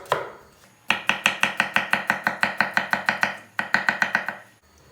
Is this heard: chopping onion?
yes